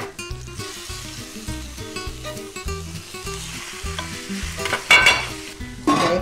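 Mushrooms fry on a hot iron griddle with a steady sizzle, while a spatula scrapes and stirs in a regular rhythm, close and fairly loud, with a few louder clinks near the end.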